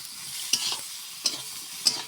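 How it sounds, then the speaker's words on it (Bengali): Cauliflower frying in a pan gives a steady sizzling hiss, broken by three sharp stirring scrapes spaced at even intervals. No voices are heard. "ভাজা চলছে।"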